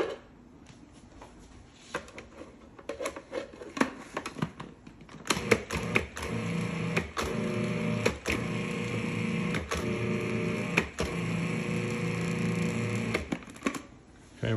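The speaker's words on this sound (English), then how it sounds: "what I'm going to do is pulse this a few times in my food processor" A food processor whirs in short and longer pulses, cutting powdered sugar, flour and salt together for hamantaschen dough, its steady motor drone broken by brief stops and clicks, close and fairly loud with no talk.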